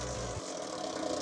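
A 15HP TIMCO branch mulcher engine runs steadily at low revs, a close and fairly quiet mechanical hum and rumble lasting just over a second, with no voices.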